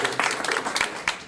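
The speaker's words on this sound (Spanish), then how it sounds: "para quien pedimos un fuerte aplauso" Brief applause from an audience at a ceremony for a literary magazine, close and fairly loud, with overlapping claps throughout and the stronger ones coming unevenly.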